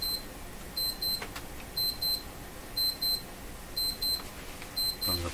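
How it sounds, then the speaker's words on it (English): An alarm clock sounds in a workshop during radio tube voltage testing, a faint high electronic beep repeating in paired bursts about once a second, with no talking. "Okay, that beeping will stop in just a moment here."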